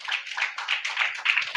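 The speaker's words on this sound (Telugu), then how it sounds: "చప్పట్లు కొట్టండి ఒకసారి." A church congregation at a New Year watch night service claps hands steadily together, a dense continuous patter of many hands for over a second and a half, fairly close and without voices over it.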